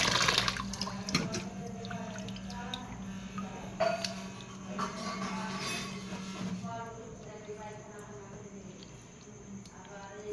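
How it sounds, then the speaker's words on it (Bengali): Chicken pieces being rinsed clean under running tap water in a home kitchen, a steady splashing flow with clatter of a bowl, continuous throughout and easing slightly toward the end. "চিকেনগুলোকে এবার পরিষ্কার করে ধুয়ে তুলে নেব।"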